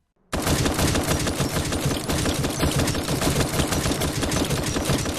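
An M16 rifle in The Last Player VR fires a sustained automatic burst: loud, close, rapid shots in an unbroken rattle that starts abruptly after a brief silence and continues to the end.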